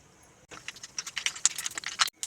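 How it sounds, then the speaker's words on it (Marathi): Mustard seeds crackle and pop in hot oil, a quick burst of sharp, dense snaps lasting under two seconds. "राई चांगली तडतडून द्यायची आहे"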